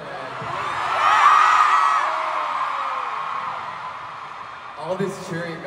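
Concert crowd at a world tour show in Chicago, a dense wash of cheering and whooping that swells early, then holds steady, with a few sharper shouts near the end.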